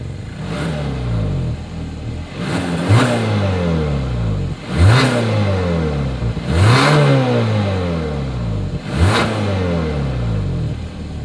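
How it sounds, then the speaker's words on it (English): A 2021 Hyundai Santa Fe with satin chrome exhaust tips revs repeatedly, about five loud, close engine surges that climb and fall back to idle, with no talk over them. "As always, here is that exhaust clip."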